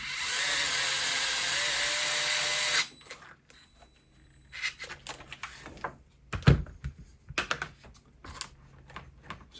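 A powered ball driver whirs steadily for a few seconds while working on a Traxxas Slash RC car, then stops, followed by scattered close taps, clicks and small metal knocks from a wrench and parts.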